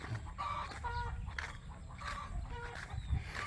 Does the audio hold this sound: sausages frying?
no